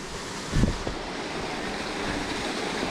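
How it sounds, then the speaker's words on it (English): Floodwater rushes across a farm track on a quinta in a continuous, close roaring wash, with one brief louder splash or thump early on. "this is where it's flooding across the track"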